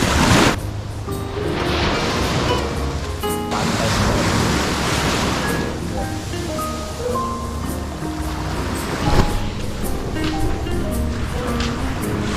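Ocean surf washes onto an empty morning beach in Phetchaburi, Thailand, a steady loud roar of breaking waves with gusty wind noise on the microphone and no voices.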